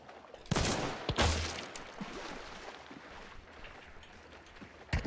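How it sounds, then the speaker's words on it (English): Two sharp gunshots crack from the video game Hunt: Showdown, about a second apart, followed by a low rumbling tail and a quieter background bed. "I heard that shot"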